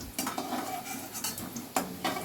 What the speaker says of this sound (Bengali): বড়াগুলো সোনালি হয়ে 2 পিঠি ভাজা হয়ে গেছে, আমরা এগুলোকে এবার তুলে নেব